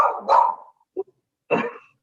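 A pet dog barks three times at home, two fuller barks separated by a short soft yip, close and clear against a silent background.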